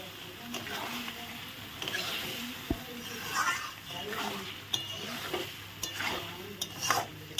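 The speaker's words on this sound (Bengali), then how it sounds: "চিকেনটা দিয়ে আমি ভালো করে একটু কষিয়ে নেব।" Chicken frying in curry masala in a pan, with steady sizzling broken by repeated scraping stirs and occasional clinks of a utensil against the pot; the cooking sounds are close and moderately loud, with no talking.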